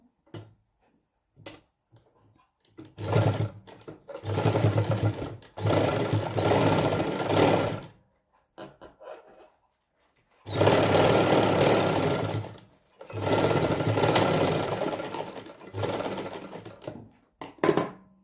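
A sewing machine stitches a small piece of fabric into warm socks, running in several bursts of rapid mechanical clatter separated by quiet pauses.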